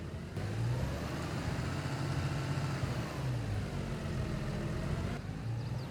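A 287-horsepower tractor engine in Farming Simulator 22 runs at a steady, fairly quiet mid-pitched drone, with slight rises in revs as it drives, no voices.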